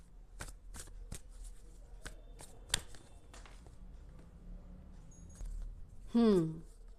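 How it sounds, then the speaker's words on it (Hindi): Tarot cards are shuffled and picked up after falling during a reading: a series of soft, quick card slaps and flicks, close and quiet, ending with a brief rising squeak. "ये 2 कार्ड्स गिरे थे और मैं उठा रही थी, फिर से ये कार्ड गिरा था।"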